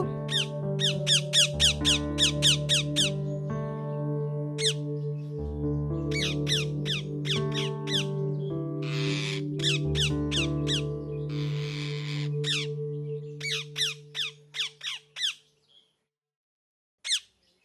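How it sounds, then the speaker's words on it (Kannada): Shrill, rapid parrot squawks burst out in repeated clusters over a steady musical background in an animated children's story, stopping and starting, then a few final calls near the end. "ಆ ಮಿಟ್ಟು ಗಿಳಿ ಮರದ ಮೇಲೆ ಕುತ್ಕೊಂಡಿರೋವಾಗ"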